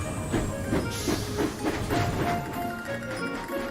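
A cartoon steam engine puffs along rails with rhythmic chuffs and a clickety rattle underneath, holding a steady moderate loudness that fades slightly toward the end.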